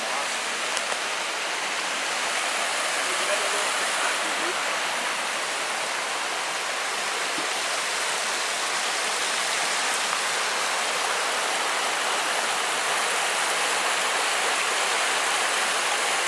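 Steady broadband rush of flowing water, like a creek running close by, continuous and fairly loud with no pauses.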